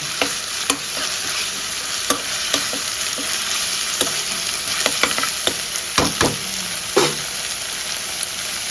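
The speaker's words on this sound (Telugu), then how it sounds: "అల్లం వెల్లి పేస్ట్ ఫస్ట్ ఎందుకు వేసుకున్నా అంటే ఆయిల్లో బాగా మగ్గడానికి" Ginger-garlic paste fries in hot oil for a mutton boti biryani. A loud, continuous sizzle is broken by sharp spatula clacks and scrapes at irregular intervals, with no voices.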